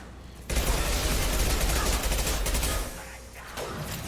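A submachine gun loaded with armor-piercing rounds fires in a dense, rapid burst in the Mass Effect 2 video game, loud and sustained for a couple of seconds before cutting off.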